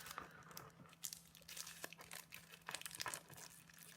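A 12 by 12 sheet of Mother of Pearl specialty paper is pulled out and handled close by, giving quiet crinkling and rustling with soft scattered crackles and no talk.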